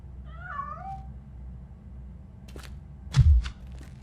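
A cat meows in the video game RoboCop: Rogue City, a short wavering call near the start, followed later by a couple of soft knocks and a heavier thump over a low ambient rumble.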